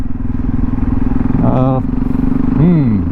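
Motorcycle engine droning steadily while riding through corners on a road in Turkey, loud and continuous throughout, with someone talking over it.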